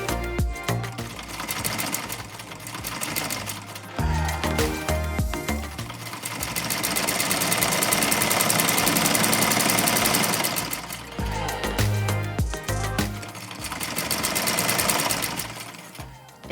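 A sewing machine stitching kerawang embroidery, running in a fast steady chatter close up, speeding and slowing with brief pauses between runs.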